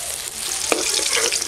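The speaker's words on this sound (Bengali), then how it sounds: "আর এক খোলা মাছ ভাজবো।" A batch of fish fries in a pan with a loud, dense, crackling sizzle that holds steady throughout the short moment.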